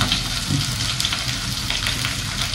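Chopped onions and curry leaves hitting hot oil in a pan, a continuous loud sizzle with crackling bursts and the occasional scrape of stirring, close up with no talk.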